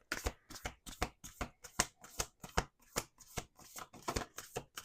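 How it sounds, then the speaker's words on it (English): A deck of cards being shuffled in repeated quick riffles, each a crisp burst of ruffling followed by a short pause, steady and close, with no talking. "Let's do some shuffling."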